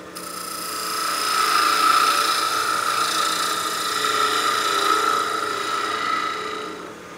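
Wood lathe turning a birdhouse ornament, a tool making a cleanup pass on the end to remove a little tear-out: a steady scraping, rasping hiss with a constant spinning hum, holding at an even level throughout.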